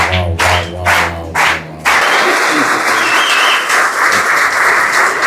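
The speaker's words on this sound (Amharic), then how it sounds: "አጨብጭቡ አጨብጭቡ አጨብጭቡ።" Audience applause at a poetry book launch, with speech over music at first, then a sustained burst of dense clapping from a crowd filling the rest.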